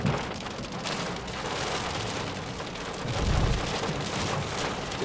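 Heavy rain drums steadily on the roof and windows of a Honda Brio Satya E CVT, heard from inside the cabin as a dense, continuous patter with a low rumble swelling midway.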